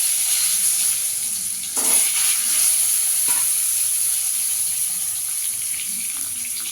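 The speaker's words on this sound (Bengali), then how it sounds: "ডিমটাকে একটু ভেজে নেবো আগে।" Egg frying in a pan with a steady, bright sizzle throughout, up close, with a brief stir or shift of the pan partway through and no talking.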